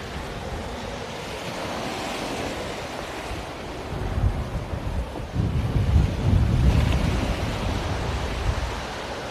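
Sea waves breaking along a shore, a rough continuous roar with heavy wind buffeting the microphone and a louder surge of crashing water in the middle; no talking.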